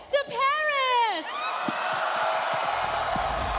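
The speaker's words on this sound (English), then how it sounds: "the crowd is going wild" An esports playoff crowd at the MPL Philippines Season 17 playoffs roars and whoops in a sustained wash of loud cheering, opening under a long excited yell from a caster.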